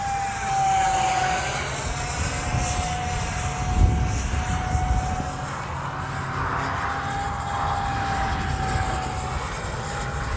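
Turbine whine from an Arrows RC L-39 model jet after a hand launch, a steady high-pitched engine tone with a faint harmonic sweep, loud and continuous for about ten seconds with no talking.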